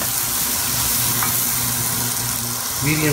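Onion sizzles loudly in hot browned butter in a pan for shrimp scampi, a dense constant hiss with low bubbling, and a brief voice enters at the very end.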